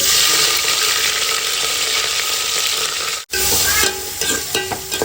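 Onions and curry leaves frying in hot oil: a loud, continuous sizzle with stirring, a brief cut in the middle, then scraping and clinks of a spoon against the pan.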